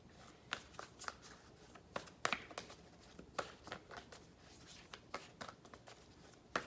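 Tarot cards are shuffled and drawn close up in quiet, a run of crisp irregular riffling snaps and soft slides.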